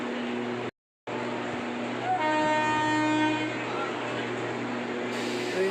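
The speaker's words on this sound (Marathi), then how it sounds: "ही AC ट्रेन आहे, भरपूर आवाज करते." An AC local train at Malad station rumbles close by, and a long, loud, tonal horn blast sounds through the middle over the steady mechanical drone.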